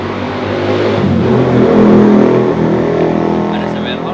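A Honda CBR 150 R motorcycle engine runs loud and steady with a sustained rev and a slight rise and fall in pitch, heard close up. A voice is also present.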